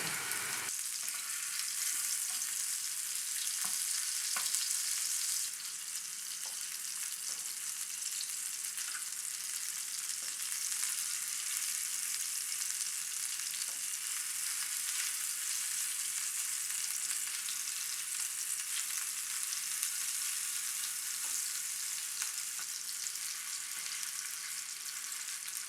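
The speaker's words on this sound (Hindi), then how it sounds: "और मीडियम आंच पे फ्राई करेंगे।" Seekh kebabs fry in a few spoonfuls of oil on a flat tawa over medium heat, giving a steady, even, close sizzle that runs unbroken throughout with faint crackles and no voices.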